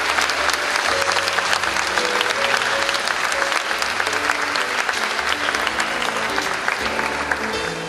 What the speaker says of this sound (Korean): 박수로 맞아주실까요?